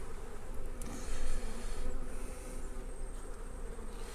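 Honeybees hum around an open back-garden hive, a close, continuous droning buzz that swells and dips slightly as individual bees pass near, with no talking.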